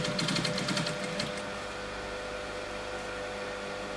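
A sewing machine stitches fabric for dummy wave curtains with a steady, close mechanical whirr. It is slightly busier at the start and then settles into an even hum.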